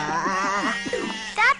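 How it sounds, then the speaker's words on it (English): A sheep on a farm gives a wavering, quavering bleat that rises and falls and is close and fairly loud, followed by a shorter, higher cry. "That's not a bull. That's just Herkimer, one of the sheep"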